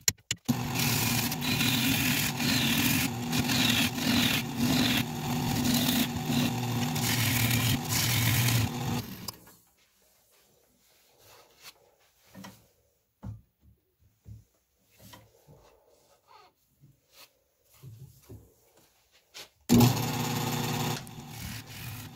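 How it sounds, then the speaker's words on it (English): A woodturning tool cuts a thin-walled rosewood crotch bowl spinning on a lathe, giving a loud, steady, slightly rattling scrape for about nine seconds. Quiet taps and shuffles follow before the cutting resumes. "You can hear the sound of the tool on the wood here. It's pretty high pitched, and that means the walls are pretty thin"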